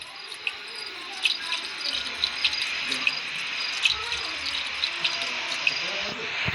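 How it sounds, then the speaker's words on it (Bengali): Petrol being filled in the Granny Chapter Two video game, a steady liquid-pouring hiss with faint drips and a chirping cricket night ambience behind it. "আমি এখন এই যে পেট্রোল দিয়ে যে এটা ভরবো, তেল ভরো তাড়াতাড়ি তাড়াতাড়ি"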